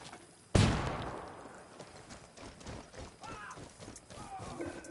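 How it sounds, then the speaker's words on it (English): A flashbang grenade goes off in Ghost Recon Wildlands with one sudden loud bang, followed by a fading noisy tail and scattered clatter while voices speak faintly underneath. "Throwing a flashbang."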